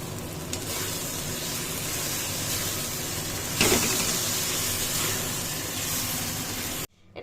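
Potatoes and egg fried in spices in a pan, a dense, loud, continuous sizzle with a brief louder burst midway before cutting off abruptly near the end.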